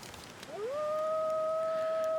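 A lone timberwolf howl in The Long Dark rises smoothly and then holds a long, steady, pure tone, clear against a faint background with no talk.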